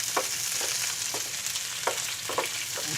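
Chopped onions fry in a pan with a close, continuous sizzle, broken by soft stirring scrapes at irregular intervals; no one speaks.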